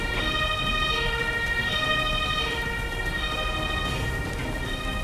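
A video-game ambulance siren wails loudly and continuously in a rising and falling electronic tone over a low engine rumble.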